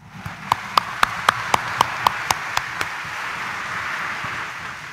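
A congregation in Quiapo Church claps in unison during Sunday Mass: about ten sharp, evenly spaced claps over a steady room hum, then they fade out.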